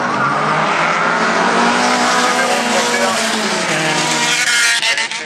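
A Renault Mégane Coupé rally car at a rally event in Lessay races past, its engine roaring loud and continuous with high revs and some tire squeal, filling the whole stretch up close.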